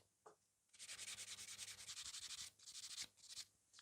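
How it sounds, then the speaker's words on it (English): A nail buffer rubs rhythmically over gel nails in quick back-and-forth strokes, soft and close, with short pauses between passes and no talk. "that's the buffing almost done"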